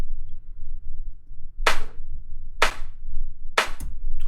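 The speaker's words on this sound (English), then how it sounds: "Let's move on to the clap here. So the clap has 2 layers. This is the first layer, which has more of that snap to it." Three crisp, snappy clap hits from the first layer of a tech house clap sample, evenly spaced about a second apart, each a sharp bright burst standing out over a quiet low rumble.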